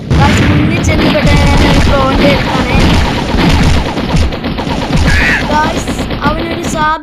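Dense, continuous gunfire and booming hits fill a fight in the Roblox game Blox Fruits, loud and layered with game effects, while a player talks underneath.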